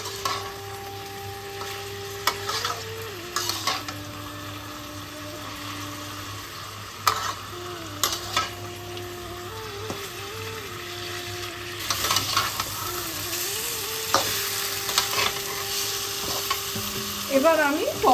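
Turmeric and Kashmiri chili powder fry with chicken, garlic and ginger in a curry pan, a steady sizzle under repeated scraping and stirring strokes, with brighter clattering bursts near the end.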